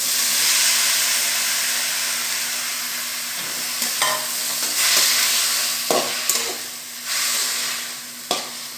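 Onions sizzle and fry steadily in a pan for a homemade chutney, with a constant close hiss broken by occasional scrapes and clicks of stirring.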